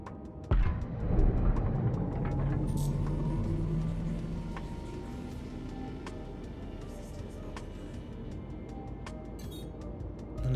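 A small Drake Cutter scout ship in Star Citizen powers up, with a thump followed by a steady low engine rumble that slowly settles into a quieter hum, dotted with faint ticking.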